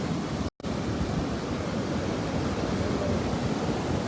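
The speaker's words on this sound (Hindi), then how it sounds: "आपको पत्थरों की आवाज़ें सुनाई दे रही है" Flooded Swat River roaring loud and steady as a broad rush of water, with stones knocking and tumbling along the riverbed under the constant churn, briefly dropping out for a split second near the start.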